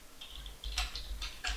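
Light, quiet keystrokes on a computer keyboard as commands are typed, a few scattered clicks in short bursts over a low hum.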